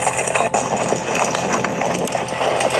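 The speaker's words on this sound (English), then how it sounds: "The horses are so cute. They're getting saddled up right now" Horses being saddled up for a group trail ride, with steady hoof clip-clop and shuffling close by, blended with continuous outdoor noise and faint voices in the background.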